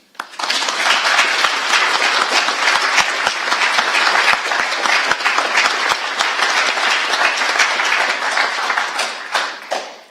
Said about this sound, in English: can we please give a round of applause for the team